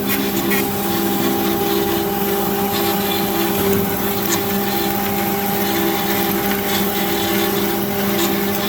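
An Amada H650HD band saw cuts through steel, producing a steady, loud mechanical drone with sustained humming tones and a constant grinding rasp that continues without a break for the whole stretch, with no voices heard.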